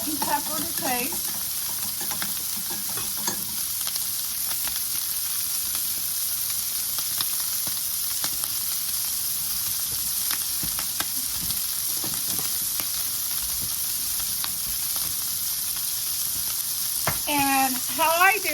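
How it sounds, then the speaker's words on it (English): Sausage sizzles steadily in a pan while being fried for sausage gravy, a constant close crackle with occasional stirring scrapes and brief talk at the start and end. "Okay, we fried our sausage."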